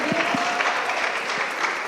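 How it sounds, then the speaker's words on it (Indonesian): An audience at a church youth service claps in brief, even applause throughout. "Tepuk tangan teman."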